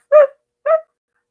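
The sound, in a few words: dog barking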